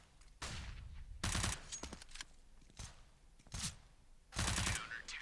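Sharp, close pistol shots from a P250 in Counter-Strike on the Cobblestone map ring out in separated bursts, a single crack followed by quick clusters of fire with brief quiet gaps.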